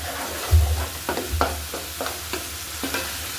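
Yogurt stirred into frying beef kofta masala in a pan, with a low bubbling sizzle and a series of soft spoon scrapes and taps at a steady, unhurried rhythm, close up with no talking.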